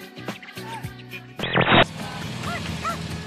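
Dogs riding a small dog train built by a retiree who takes in stray animals, yipping and barking in short repeated bursts at close range over busy background noise, with no speech.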